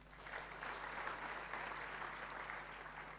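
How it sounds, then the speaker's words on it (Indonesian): A church congregation claps hard at a preacher's request, a faint but continuous wash of applause over a low steady hum, lasting about three seconds. "Tepuk tangan yang keras."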